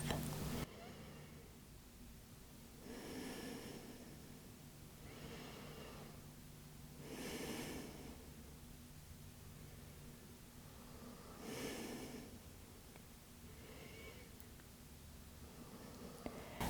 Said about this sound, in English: Five more rounds of breath.